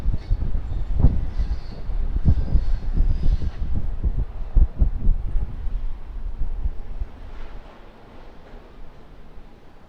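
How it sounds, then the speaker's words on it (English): A Q400 turboprop airliner taxiing in at Sydney Airport: a low, rumbling engine drone with pulsing thumps, moderately distant, gradually fading and thinning toward the end with no voices. "Q400 just beginning, or finishing shall I say, it's taxiing in from 16 right, 16 left"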